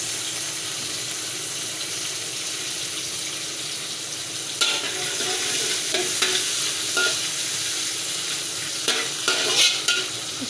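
Garlic, curry leaves and pandan leaves fry in a hot pan with a steady close sizzle, while a utensil scrapes and stirs in several sharp bursts during the second half.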